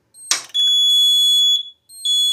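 An FCI FC7200 fire alarm system in alarm condition sounds loud, steady high-pitched electronic tones from its notification circuits, broken by a brief click and short gaps between long sustained blasts.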